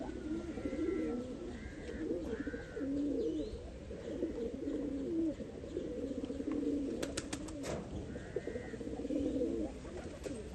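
Small-beaked pigeons cooing in repeated low, rounded phrases with short pauses between calls, heard up close over a steady background hum with no talking.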